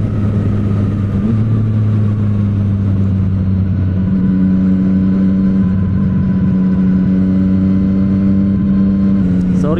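A Yamaha MT-09 motorcycle engine running under way at night, a close steady drone whose pitch climbs and settles as the rider accelerates, with wind rush underneath.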